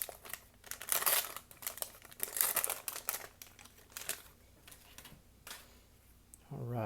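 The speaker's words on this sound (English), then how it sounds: "So we'll do a couple more packs to go today for this part 1 of 1989 Donruss, hunting for Griffey" Packs of 1989 Donruss baseball cards being torn open, with repeated crinkling wrapper rustles and card shuffling close to the mic, some brief louder bursts, and a voice at the very end.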